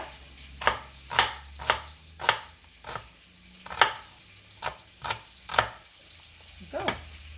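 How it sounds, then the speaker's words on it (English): A knife chops red onion into tiny cubes on a board, about a dozen sharp, evenly spaced thuds heard close up with no talking. "To cut into tiny cubes"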